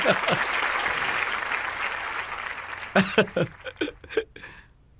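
Audience applause fills the first three seconds as a dense, steady wash of clapping, then breaks into a few scattered, louder individual claps that fade out.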